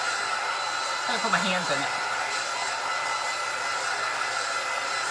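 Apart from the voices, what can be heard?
drying craft sign paint with a dryer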